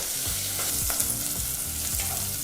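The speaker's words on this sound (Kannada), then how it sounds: "ಸಾಂಬಾರು ಈರುಳ್ಳಿ ಮತ್ತು ಮಿಕ್ಕೆಲ್ಲ ಪದಾರ್ಥನೂ ಎರಡು ನಿಮಿಷ ಲೋ ಟು ಮೀಡಿಯಂ ಫ್ಲೇಮ್ನಲ್ಲೇ ಚೆನ್ನಾಗಿ ಹುರಿದಾಯಿತು ಎಣ್ಣೆಯಲ್ಲಿ" Small sambar onions and curry leaves fry in oil over a low to medium flame, a dense continuous sizzle with rhythmic stirring scrapes, close and steady with no voices.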